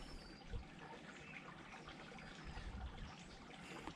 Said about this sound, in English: This little creek channel runs down through here.